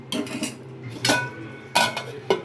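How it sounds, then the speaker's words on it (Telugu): Metal clinks as a lid goes onto a pot of dal in a home kitchen. About four short, close knocks are heard, the last two sharper, with no talking. "దీన్ని మూత పెట్టేసుకుందాం"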